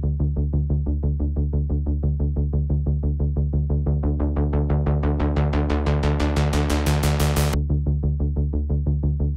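A steady synth pulse from the Phase Plant synthesizer repeats in an even fast rhythm, its tone gradually brightening and opening up before snapping back to the duller pulse, loud and alone.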